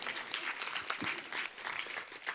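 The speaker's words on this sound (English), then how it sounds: "So if y'all could give them another round of applause holding it down." An audience at an environmental justice symposium gives a steady round of applause, dense and sustained throughout with no clear pauses.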